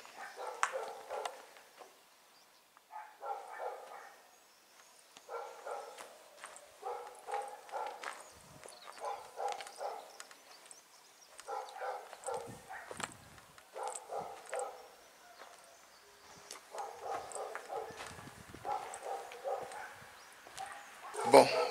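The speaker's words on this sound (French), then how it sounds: "il y a les chiens juste là, ça arrête pas de hurler." Several dogs barking close by in repeated bursts of a few barks each, with short pauses between volleys, moderately loud and continuing throughout.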